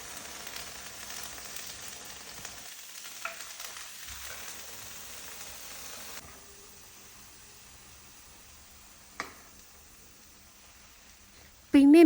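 Soybean roast bubbles over in an overfilled pan, a faint steady sizzling hiss with a few small clinks and a brief louder knock near the end.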